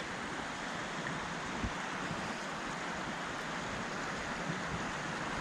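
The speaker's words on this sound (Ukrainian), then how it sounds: "Карпатська річечка." A small mountain river in the winter Carpathians flows steadily, a continuous broadband rush of water close by with no pauses and no voices.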